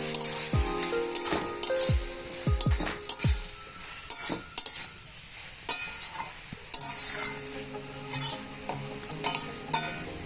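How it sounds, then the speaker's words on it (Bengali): Khosla greens fry in a pan with a lid as a spatula stirs them in repeated scraping strokes. Loud metal clanks and knocks sound against the pan over a steady sizzle, with no talking. "ঢাকনাটা খুলে আমরা একটু নেড়ে নেব"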